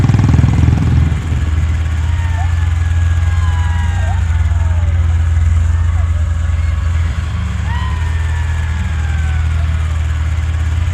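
A motorcycle engine drones steadily at close range as a sound effect in a ghost animation, a loud low rumble with brief rising and falling tonal sweeps above it.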